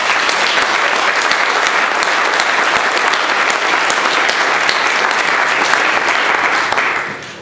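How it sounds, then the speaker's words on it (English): A packed crowd at a community town hall meeting on the heroin epidemic in Waynesburg, Pennsylvania, applauds steadily and loudly for about seven seconds, dense and sustained with no talk, fading at the very end. "Give yourselves a round of applause."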